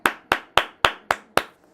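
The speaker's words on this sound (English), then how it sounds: "I got the clapping sounds." Six sharp, evenly spaced hand claps from a sound effect, crisp and close with short decays and no voices.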